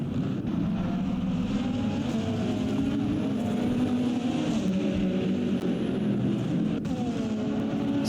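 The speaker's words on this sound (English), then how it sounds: "Here's some battling between the number 13 Corvette of Cameron Hand and George Peterson in the 58 BMW." Corvette and BMW race cars battle side by side at the Indianapolis road course, their engines giving a steady, loud roar with rising and falling pitch as they pass, no talking over it.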